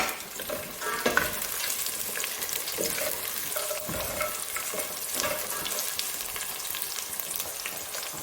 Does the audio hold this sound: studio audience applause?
no